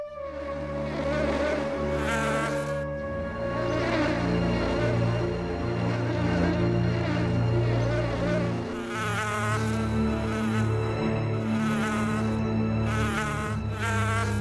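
A bee buzzes in a Hindi children's cartoon, a loud, steady, whining drone that continues without a break and rises and falls slightly in pitch as it moves, with no talking.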